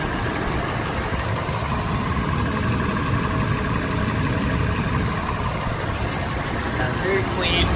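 A Toyota FJ Cruiser engine idles with its hood open, a steady mid-to-low rumble running evenly throughout, close and fairly loud, with no voices present.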